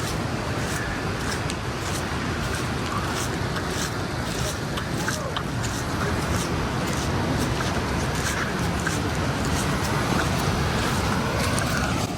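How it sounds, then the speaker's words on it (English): Constant roar of ocean surf at Akumal, Mexico, mixed with wind rushing past the microphone, steady and enveloping throughout, with occasional faint voices. "listen to that ocean"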